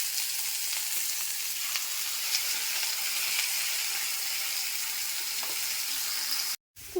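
Stalks fry in a pan as mustard paste goes in, giving a steady loud sizzle and hiss with faint stirring scrapes, broken by a brief silent gap just before the end.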